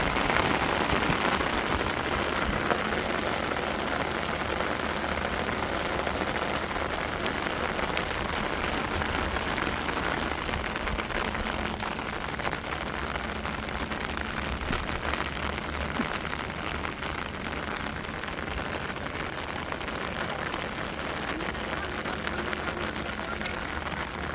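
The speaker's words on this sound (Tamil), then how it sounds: "இன்னும் மழை வெறிச்ச மாதிரியே தெரியல மழை பேஞ்சிக்கிட்டு தான் இருக்குது" Heavy rain pours steadily outside a home during flooding, a dense, even hiss of rain on surfaces that carries on unbroken for the whole stretch.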